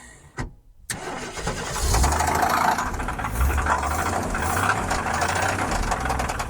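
A car engine cranks briefly after a short pause, then catches and settles into a steady, rumbling idle. The running engine is moderately loud and close, with a slightly rough, knocking texture.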